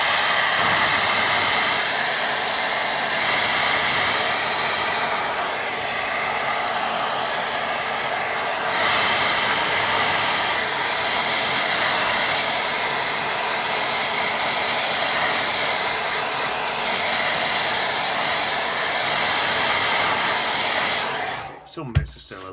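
A hair dryer blows steadily and loudly for about twenty seconds to dry a waterfall watercolour painting, a constant close airy roar that cuts off abruptly near the end.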